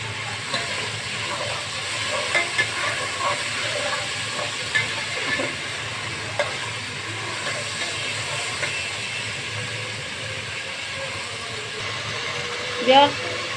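Whole cardamom, cinnamon and bay leaf sizzling in hot oil, a steady close hiss with scattered pops and crackles and a sharper spatter near the end, with a voice now and then.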